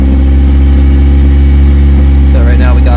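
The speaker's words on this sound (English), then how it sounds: "Don't mind the exhaust, it's really loud." A 1990 Acura Integra engine running near at a steady idle with a very loud, droning exhaust, a heavy low rumble that holds constant; a voice briefly talks over it toward the end.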